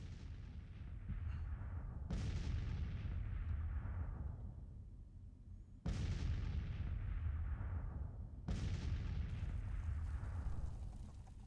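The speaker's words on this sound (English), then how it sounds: "some of our guns are at least firing. I mean, 6-pounder guns firing at range" Civil War 6-pounder artillery guns boom in Grand Tactician, four separate heavy reports each followed by a long rumbling decay, spaced a few seconds apart over a constant low battlefield roar.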